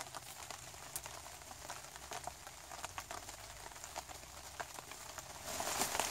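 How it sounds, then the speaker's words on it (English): Faint steady rain pattering on surfaces at a night campsite, a soft continuous hiss with scattered drops and crinkly ticks, slightly louder near the end, no voices. "as the rain gets here a little bit more, we had to make an adjustment or two"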